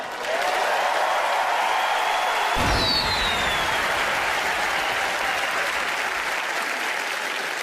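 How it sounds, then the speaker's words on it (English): A studio audience at a Fool Us magic show applauds for Teller, producing a loud, dense, steady roar of clapping with a brief slam-like thump near the middle. "Applaud for Teller."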